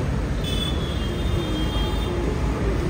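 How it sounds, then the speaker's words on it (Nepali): A train rolls past overhead in Delhi, a loud continuous rumble with a thin metallic wheel squeal above it, heard close and steady with no talk. "ट्रेन"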